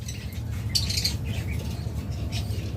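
Luteino Fischer's lovebirds in a breeding cage, a few sharp, shrill squawks and chirps over a low rumbling background, fairly close.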